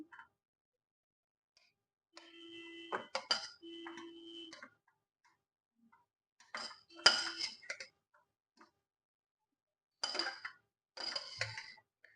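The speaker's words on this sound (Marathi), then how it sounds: "आपण हे काढून घेणार आहे मिक्सरच्या भांड्यामध्ये" Cooked food, left to cool after the gas is switched off, is scooped into a mixer jar in a home kitchen, giving scattered clinks and scrapes of utensils against pots in short bursts with quiet gaps between them.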